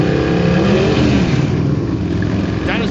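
Motorcycle at a bike night burnout, engine revving loud and steady with a roaring, grinding drone that eases slightly later on, with crowd noise around it.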